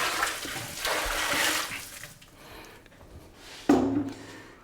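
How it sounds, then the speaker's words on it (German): Cool water poured into bread dough in a bakery, a steady rushing pour that fades out, then a brief splash and gurgle near the end. "Dazu kommt jetzt kühles Wasser."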